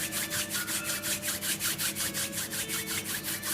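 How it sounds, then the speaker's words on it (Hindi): Palms rubbing briskly together during a guided breathing and relaxation session, a steady rhythmic swishing of skin on skin with about four strokes per second, close and moderately loud, with no talking over it. "हाथों को रब करेंगे"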